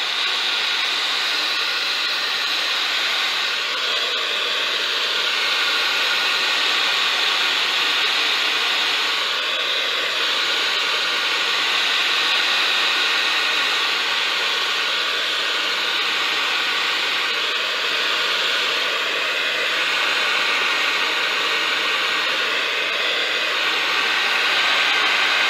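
A hair dryer blows steadily on a flat-lying patina finish, a continuous loud airy hiss with slight periodic swells in pitch as the dryer moves, no talking over it.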